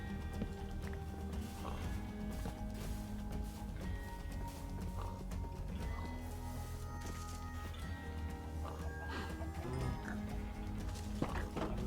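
Horse hooves clip-clop at a steady, continuous pace while riding in Minecraft, under constant game background sound, with no talking.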